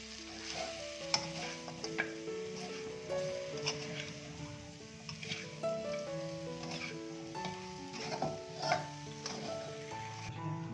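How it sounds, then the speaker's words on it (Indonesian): Chicken with bean leaves sizzles steadily in a hot pan while a utensil stirs and scrapes through it, with frequent clinks over a constant crackling fry and no talk. "Nah ini kita aduk sebentar ya sampai meresap ke ayamnya"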